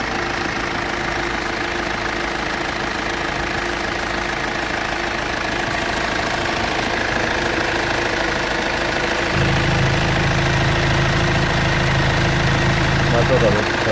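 A 2010 Hyundai Santa Fe diesel engine idles steadily with a rough, knocking rumble throughout, the low drone deepening slightly near the end.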